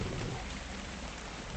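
Rain falling in the video game Ark Survival, a dense steady hiss of downpour with a low rumbling undertone, constant and enveloping from start to end.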